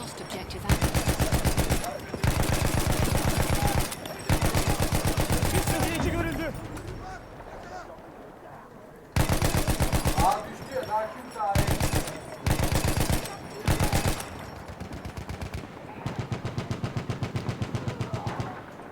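Battlefield 1 gunfire, loud rapid machine-gun bursts repeating in long strings with short pauses and scattered shots between, with a voice talking in the gaps.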